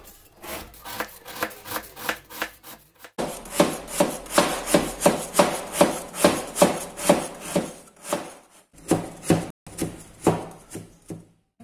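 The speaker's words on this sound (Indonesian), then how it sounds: "Gula aren 300 gram kita iris halus-halus." Knife finely slicing 300 g of palm sugar on a board, a rapid series of rhythmic scraping cuts in steady bursts with brief pauses, close and clear, no talking.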